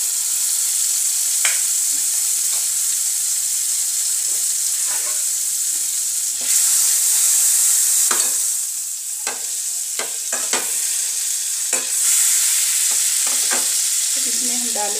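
Butter sizzles steadily in a pan over a gas flame while making malai kofta gravy, a continuous bright hiss broken by scattered clinks and scrapes of a spoon, close and fairly loud, no talking.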